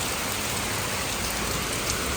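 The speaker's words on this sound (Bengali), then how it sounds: "জোর কদমে বৃষ্টিও চলছে" Heavy rain pours steadily through a dark, gusty night, a dense continuous hiss close by and loud throughout, with no voices over it.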